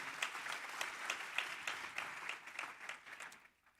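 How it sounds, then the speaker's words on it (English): Audience applause in a formal hall at a university AI facility commissioning ceremony, sustained dense clapping that holds steady for several seconds before tapering off at the end. "Please, round of applause."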